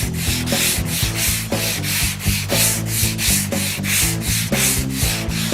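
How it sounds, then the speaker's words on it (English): A flexible sanding block with a single sheet of sandpaper rubs rhythmically back and forth over a light-gauge sheet-metal panel, steady close scraping strokes with no talking. "Now with a single piece of sandpaper on the block, you can see it does a nice job of blocking"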